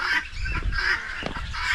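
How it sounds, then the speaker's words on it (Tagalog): Chicken and turkey chicks chirp and peep continuously in a close, busy chorus, with high calls layered over low background rumble throughout. "May mga bagong sisiyo naman tayo dito."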